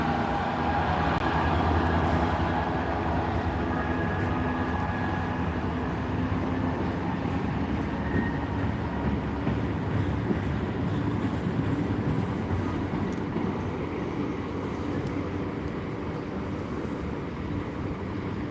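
A Class 66 diesel locomotive hauls a petroleum train past at a steady distance, a continuous low rumble and rolling rail noise that holds evenly for the whole stretch without talk.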